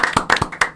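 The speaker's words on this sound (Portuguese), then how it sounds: "Aplausos fechado." A few people clap briefly on a podcast, four or five sharp, close hand claps spaced unevenly over less than a second.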